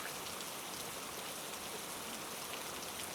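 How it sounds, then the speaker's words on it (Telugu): Steady, dense rain drums on a tent during a solo camp in a rain forest, a continuous even hiss with no pauses and no voices. "సడన్గా వర్షం స్టార్ట్ అయిపోయింది"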